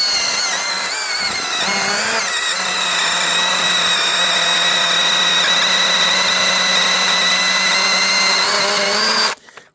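A small motorised saw runs at a high, steady whine while cutting through hornbeam firewood, loud and close for nearly ten seconds before cutting off abruptly, with no voices.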